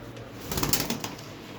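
Pigeons at a pigeon sale give a short burst of wing flapping with soft cooing in the middle, close by, over a low background hum.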